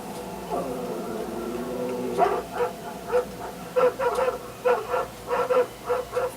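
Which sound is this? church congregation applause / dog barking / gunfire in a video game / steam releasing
dog barking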